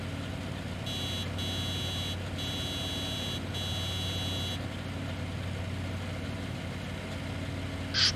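A vehicle engine idles steadily in Farming Simulator 19, a low constant hum running through the whole stretch, while a buzzing alert tone sounds in several bursts early on; nobody speaks.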